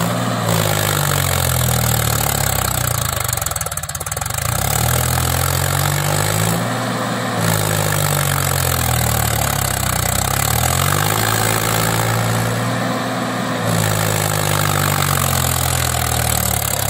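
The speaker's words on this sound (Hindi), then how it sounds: "मुड़ा ट्रैक्टर इधर को, ट्रॉली बहुत ज्यादा दाम में फंसी खड़ी।" Heavy engine of a Mahindra 265 DI tractor pulling a heavily loaded, stuck trolley, running loudly and continuously, its low rumble rising and falling as it revs, with repeated surges of strain.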